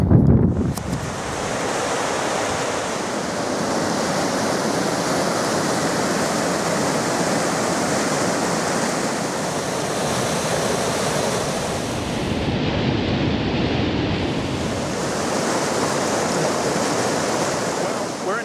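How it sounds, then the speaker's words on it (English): Continuous roaring rush of fast-moving river rapids, loud and close, filling the whole soundscape without a break, with a faint shift in tone partway through. "hopefully we're over the worst of the rapids"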